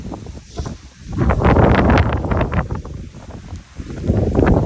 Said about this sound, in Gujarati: ખતરનાક ભાઈ વાવાઝોડું ચાલુ થઈ ગયું છે પાછું અત્યારમાં